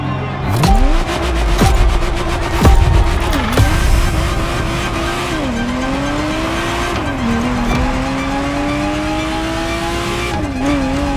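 A Ferrari Testarossa in the racing game The Crew Motorfest, its engine loudly revving up and down through gear shifts, with tire squeal and skidding in the opening seconds.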